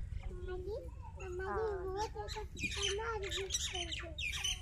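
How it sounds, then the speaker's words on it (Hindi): A myna bird calls outdoors in a village, giving a run of squawks, chatters and whistling notes. The calls sit close and fairly loud over a low background rumble. "जी देखे, मैना उड़ रही है।"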